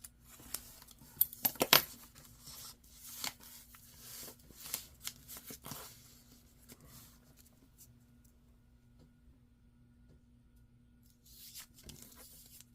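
Paper being cut with scissors for a craft project, a run of crisp snipping and rustling bursts close by early on, then sparser handling sounds and quieter stretches with no talking.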